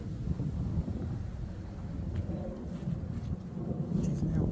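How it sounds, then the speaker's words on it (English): Wind blows outdoors during a cladding replacement job as a low, continuous rumbling buffet with gusty swells, muffled and steady throughout, with faint higher clatters near the end. "Another hour or so later, it's still windy"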